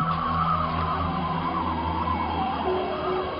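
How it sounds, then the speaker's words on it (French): A car speeds through the night with a steady, loud engine drone and a sustained whine or skid-like tone overhead, continuous throughout with no talk. "une voiture qui course dans la nuit"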